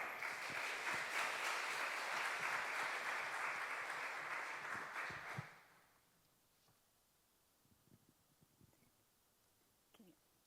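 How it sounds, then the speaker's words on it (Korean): Church congregation applauding to welcome a preacher at a Wednesday worship service, loud steady clapping for about five seconds that cuts off sharply into a quiet room with faint rustles. "전도사님 나올 때 우리 박수로 환영해 주시겠습니다"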